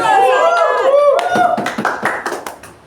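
An audience at a Toastmasters meeting claps and cheers, with voices calling out over scattered handclaps that thin out and fade toward the end.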